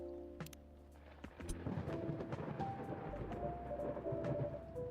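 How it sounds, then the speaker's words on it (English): Steady rain ambience in the video game Coffee Talk, set on a rainy Seattle night, a continuous soft hiss with occasional low rumbles and faint tonal game music underneath, no talk. "It's still raining in Seattle. Every night it still rains."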